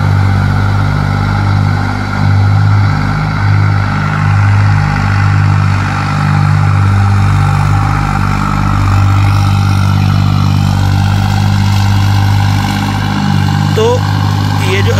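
A modified tractor engine idles loud and close, a steady low droning hum with strong harmonic throb, with a voice talking over it.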